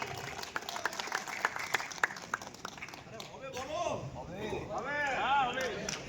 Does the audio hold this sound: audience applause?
yes